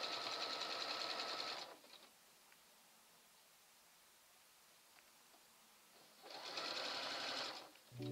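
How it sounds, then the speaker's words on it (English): A sewing machine stitches swimsuit lining, main fabric and elastic together in two rapid whirring bursts separated by a few seconds of quiet handling of the fabric. "we are lining up the lining, the main fabric, and the elastic all along the edge, and applying a little bit of stretch as we sew"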